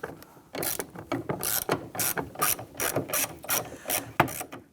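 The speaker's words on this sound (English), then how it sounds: "Using a T30 Torx bit and our extension, we're going to go ahead and remove the bolt holding the handle in place here." Rapid, steady clicking of a ratchet with extension and T30 Torx bit backing out the bolt that holds a rear door handle on a 2002-2008 Dodge Ram 1500, loud and close, with repeated bursts over several seconds.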